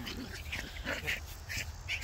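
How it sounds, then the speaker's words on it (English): Dogs playing at a park give short, scattered high yelps and whimpers, fairly close, over a steady outdoor background hiss. "And now we're letting the dogs play."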